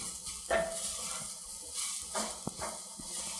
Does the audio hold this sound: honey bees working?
no